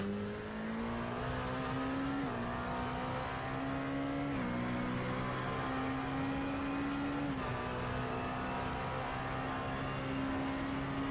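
A Ford 3.7 V6 LMP3 race car engine drones with a steady, nasal tone, stepping up in pitch through several gear changes, heard as if from inside the car, with no talking.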